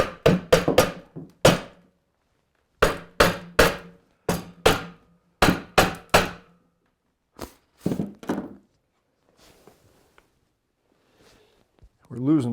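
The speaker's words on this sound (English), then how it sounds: "I'm just lightly tapping all the way around it." A hammer lightly taps around a reel mower wheel, producing sharp close knocks in quick clusters of two to four, pausing between groups, then thinning to a few isolated taps as a voice speaks near the end.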